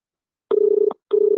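An outgoing phone call rings without being answered: a steady ringback tone in two clean pulses separated by a short silence, heard clearly and alone.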